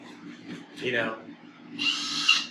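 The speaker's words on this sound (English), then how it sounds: "So that's the real sound of that drill." A power drill whirs in a short high burst near the end, loud and close, following a lower mechanical rumble and muffled background sound.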